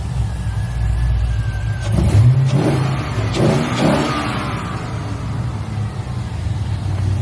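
An LS-swapped El Camino engine with aftermarket heads and cam idles, then revs up in a few quick blips before dropping back to a steady idle, heard up close.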